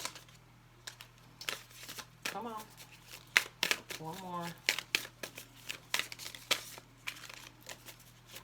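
Tarot cards riffled and shuffled in several short bursts up close, with a person speaking quietly in between.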